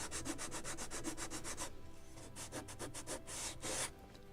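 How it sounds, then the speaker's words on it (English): Sandpaper is rubbed over wooden planking on a 1776 Gunboat Philadelphia model ship, in quick rhythmic back-and-forth strokes, then slower separate passes, close up with no speech. "And we can try every time we're sanding part of it."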